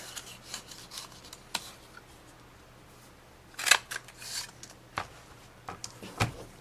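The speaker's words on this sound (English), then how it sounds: "So now we're going to cut both ends of the big piece." Scissors snipping paper while making a handmade card, a few sharp crisp cuts scattered among softer handling rustles, close and fairly loud, with no speech.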